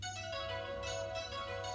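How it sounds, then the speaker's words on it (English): A synth chime patch on a Juno DI keyboard rings out as a sustained, bell-like tone with bright overtones, with a low hum underneath and no talking. "Oh yeah, and now the chimes."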